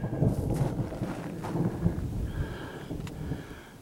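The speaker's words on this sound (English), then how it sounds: "That's thunder." Distant thunder during a sunny afternoon at an off-grid Arizona homestead, a low, soft rumble rolling on for a few seconds over light outdoor background noise, with no talking.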